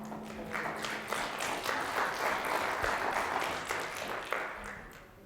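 An audience at a public policy talk on evidence applauds after a comment, a steady wash of many hands clapping for about five seconds, fairly even and mid-loud, with no voices over it.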